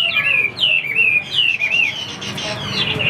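A Chinese hwamei songbird sings a bright, close series of rapid, looping whistled phrases that rise and fall, with brief pauses between bursts and faint background noise.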